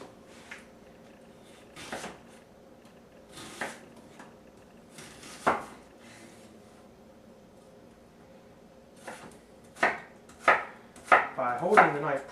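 A knife chops an onion on a cutting board: scattered single cuts at first, then quicker, closer chops bunching together toward the end, heard alone and close.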